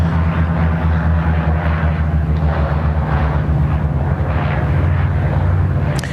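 Thai Airways and Singapore Airlines jets descend toward Sydney Airport on approach, a loud continuous low engine roar that holds steady throughout.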